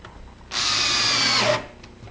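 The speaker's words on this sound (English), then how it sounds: "put the screw in, and that will draw it in tight to the wall" A power drill whirs for about a second, driving a screw into the wall of a wooden dollhouse during assembly, close and loud with a steady whine that slows as it stops, then quiet.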